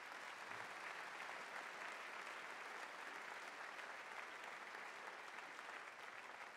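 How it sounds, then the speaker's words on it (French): An audience at a French mayor's New Year address in Vichy applauds construction workers, a soft, even, sustained patter of many hands heard from a distance throughout. "je crois que vous pouvez les applaudir et applaudir l'ensemble de ces ouvriers."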